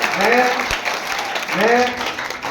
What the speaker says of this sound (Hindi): हम ये जोरदार तालियां बजाएं पहले अपने लिए